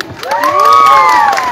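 A stage crowd cheers and whistles to welcome a guest at a live event, a loud burst of shouts and high whistles rising and sustaining for about a second and a half.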